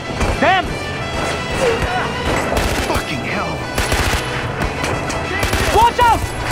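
Bursts of gunfire crackle in a Far Cry 4 firefight, loud rapid volleys mixed with crashes and game sounds, while voices shout over the action.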